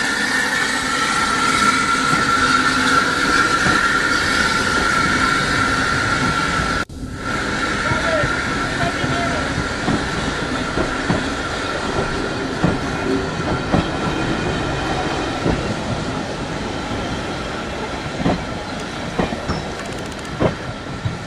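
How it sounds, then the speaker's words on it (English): A heritage railway train on the Northampton and Lamport Railway passes close by with a steady rumble and a run of rhythmic wheel clicks, while people talk intermittently. "Oh, the train coming back, look."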